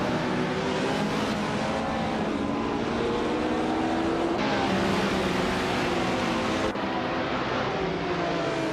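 Video-game race cars, including a classic 1971 Ferrari 312, roar off the starting line together in a dense, continuous engine drone with layered revving tones that stays loud throughout.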